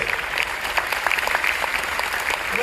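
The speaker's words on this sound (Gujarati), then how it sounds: "ગોપીનાથજી મહારાજને બોટાદ તાળીઓ પાડો, સકો તાળી" A crowd of devotees claps at a Hindu temple festival for Gopinathji Maharaj in Botad, a dense, steady patter of many hands close by and filling the whole stretch with no talk over it.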